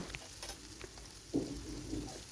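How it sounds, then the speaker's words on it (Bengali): Bitter gourd with turmeric fries in a pan, a faint, soft sizzle with a few light stirring scrapes and clicks, no talking. "হলুদ দিয়ে সমস্ত করলাটাকে আমি ভালো করে ভেজে নিচ্ছি"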